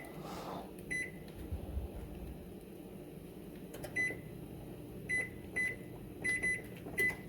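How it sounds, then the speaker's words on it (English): A microwave oven warming food runs with a low, steady hum, then gives a series of short electronic beeps near the end, quiet and close, with no talking. "Throw it in the oven to keep it warm."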